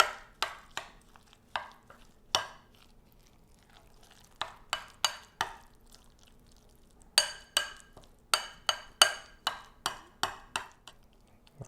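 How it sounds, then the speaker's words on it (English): A spoon stirs and scrapes through chunky homemade guacamole seasoned with pepper in a bowl, giving a steady series of sharp, close clicks and wet scrapes in uneven bursts, with no talking. "we'll just take our spoon and mix this up"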